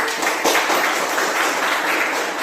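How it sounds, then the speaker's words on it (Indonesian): An elementary school class claps their hands together at the start of a lesson, a dense, loud, steady patter of many small hands with no talking. "Tepuk tangan buat semuanya."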